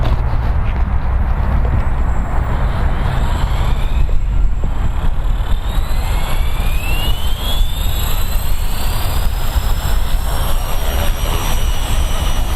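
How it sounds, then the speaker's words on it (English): A steady, loud engine whine with a rising high-pitched tone, like a small helicopter's rotor and motor running continuously up close; a simulated Blade 230 S V2 RC helicopter hovering in the RealFlight 9.5 flight simulator. "So hopefully I can hover this helicopter like John did."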